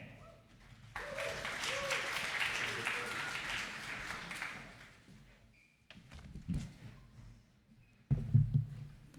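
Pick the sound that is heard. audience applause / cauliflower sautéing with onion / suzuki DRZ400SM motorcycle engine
audience applause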